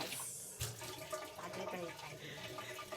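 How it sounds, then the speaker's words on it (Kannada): Running tap water splashes steadily with clinks of dishes being handled, one sharp knock early on, and a voice murmuring faintly in the background. "ಪಾತ್ರೆ ತೊಳಿತಾ ಇದ್ದೀನಿ"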